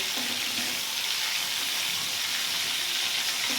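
Shrimp frying in a pan, a steady close sizzle with a broad hiss that holds evenly the whole time and no talk over it.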